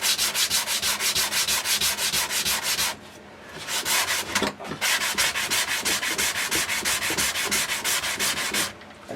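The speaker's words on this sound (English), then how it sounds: "Again, 120 on the sanding block for the back of here and things" A 120-grit sanding block rubs back and forth across the wooden back of a handmade guitar body in fast, rhythmic scratchy strokes, close and steady with two brief pauses.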